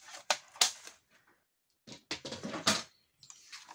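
Blade of a paper trimmer (massicot) slicing through card stock at a craft table, a few sharp dry cuts and slides in quick bursts separated by short pauses, close and clear with no voices.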